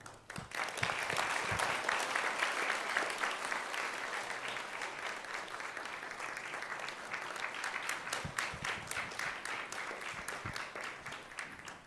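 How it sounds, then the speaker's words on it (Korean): Sustained applause from a large audience at a university graduation service in Busan during a scholarship presentation, a dense, even roar of clapping that swells early and holds for a long stretch before tapering. "전달해 주실 때 큰 박수로 감사를 표하겠습니다"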